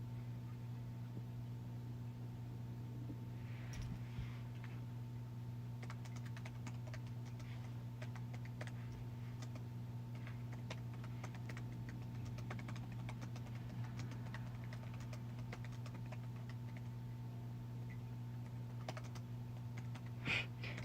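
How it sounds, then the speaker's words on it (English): Typing on a laptop keyboard, scattered quick key clicks in irregular bursts over a steady low electrical hum, fairly quiet and close, with no voices. "if you see me typing, it's because the one person that is watching my live right now, I am also typing to on my laptop."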